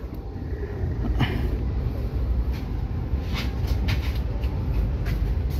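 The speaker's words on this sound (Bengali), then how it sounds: "যে ট্রেন ছেড়ে দিয়েছে একতা এক্সপ্রেস পঞ্চগড়ের উদ্দেশ্যে।" Ekota Express train running toward Panchagarh, heard from inside an AC sleeper carriage as a steady loud low rumble with faint rattles and occasional brief clicks.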